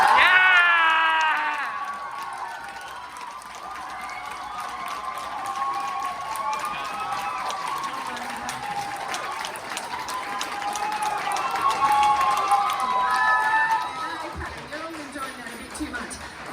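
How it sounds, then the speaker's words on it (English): Student-versus-staff debate audience at the University of Newcastle applauding and cheering to vote for the negative team, a sustained crowd roar with whoops running throughout at fairly steady loudness. "those who'd like to applaud for the negative team to win"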